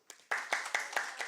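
A church congregation at a Korean Sunday worship service claps in a short, rhythmic burst of about half a dozen sharp, crisp claps after a single faint hit, with no talking.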